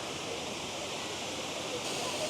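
Waterfall in Germany's Black Forest, a steady broadband rush of falling water filling the whole stretch at even loudness, with no break or change in texture.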